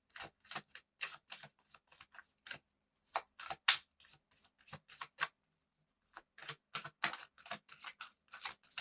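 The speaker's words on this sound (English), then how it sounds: "Let's pull maybe 1 or 2 more cards." Tarot cards are shuffled and pulled by hand in quick bursts of crisp riffling and flicking, close and fairly quiet, separated by short silent pauses.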